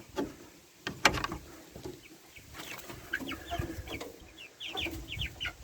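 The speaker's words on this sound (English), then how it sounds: "I'll show you the chickens." Several chickens cluck and call in short bursts inside a coop on a Tennessee homestead, some sharp squawks mixed in, fairly close over a low background rustle.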